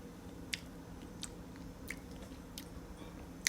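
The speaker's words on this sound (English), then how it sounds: "So now let's taste the popsicle, guys." Chewing a frozen homemade orange juice popsicle: soft close-up bites and squishy chewing, with a few sharper crunchy snaps spaced irregularly over otherwise quiet background.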